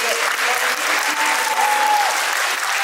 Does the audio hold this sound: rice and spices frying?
no